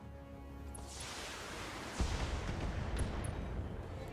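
An SRM missile rack on a BattleTech mech fires in a burst of whooshing launches, then a heavy thumping barrage of impacts and rumble that keeps going in the mid-distance.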